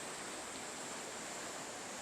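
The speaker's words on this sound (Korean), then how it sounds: "굉음을 내며 떨어지는 물소리에 이끌려 다가가자 마치 폭포처럼 쏟아지는 물줄기가 물보라를 일으키는 곳" Roaring waterfall at Waryongdae in Songgye, water plunging and spraying in a constant, even hiss of broadband rushing, steady and unbroken with no voices.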